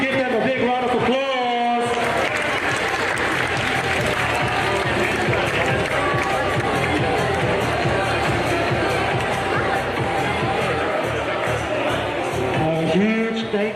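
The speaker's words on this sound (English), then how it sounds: "Can we give them a big round of applause?" Audience applause and cheering fill the venue at a men's bouldering open finals, a dense, sustained roar of clapping from a large crowd that runs steadily for over ten seconds after a brief announcer's voice.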